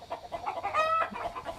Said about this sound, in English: Sorry about the hens and the chickens, everybody.